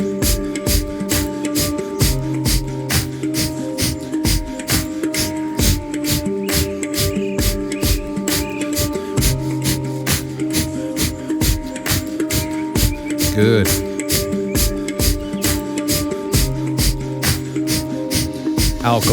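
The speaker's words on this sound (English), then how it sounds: "Breath of fire. Exhales through the nose only." Breath of fire: rapid, forceful nasal exhales pulse in a fast, even rhythm, close and regular, over steady background music, with a brief spoken word near the middle.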